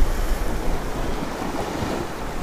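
Wind gusting steadily along a seashore during a fishing session, with a broad rushing roar and the wash of surf underneath, heavy buffeting on the microphone and no voices.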